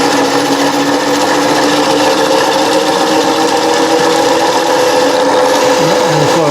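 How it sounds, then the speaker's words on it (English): A 1918 friction drive drill press runs loudly and continuously, a steady mechanical whir with tonal hum and rubbing texture, its pitch shifting slightly toward the end as the speed is changed. "the yoke here doesn't have to hold the wheel in place while the drill press is running"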